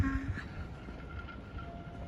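Train at Fushimi-Momoyama railway station in Japan, a low rumbling rail drone with a faint brief tonal whine, steady and moderately distant for about two seconds, no talk.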